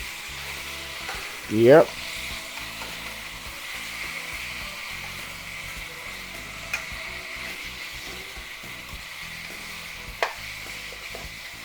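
Beef ribs fry in a wok with a steady, continuous sizzle while they are turned and coated, a brief louder scrape near the start and a couple of faint clicks later.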